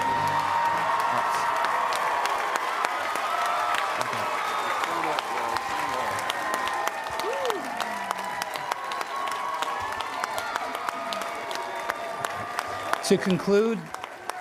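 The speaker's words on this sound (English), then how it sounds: "Let's hear a big round of applause for all of these graduates." A graduation crowd at an online academy commencement applauds and cheers its graduates with sustained clapping, scattered whoops and shouts, and a speaking voice coming in over the noise near the end.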